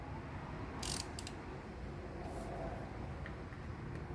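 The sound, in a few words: ratchet tightening Harley Sportster primary cover bolts in crisscross pattern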